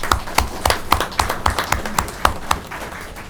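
Steady, evenly spaced handclaps from a city council meeting audience, a sharp clap roughly every quarter second for several seconds, moderately close with light room ambience and no talking.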